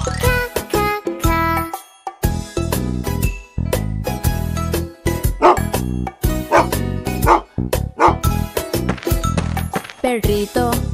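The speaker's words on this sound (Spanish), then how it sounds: "Perrito, perrito." Dog barking in a Spanish-language children's song: cartoon-style yips and barks set over a bright, bouncy tune with jingling percussion.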